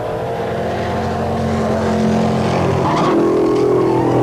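Bobcat ASCAR race cars from 1982 roar past on a race track during braking, a dense, loud engine blare whose pitch shifts as the cars close up and pass.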